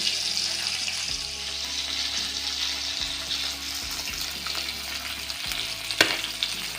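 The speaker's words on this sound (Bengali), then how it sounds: "মাছগুলোকে আমি ভেজে নিচ্ছি।" Tangra fish frying in hot oil, a steady loud sizzle with crackles and spatters, broken by occasional stirring clatter, heard close with no talking.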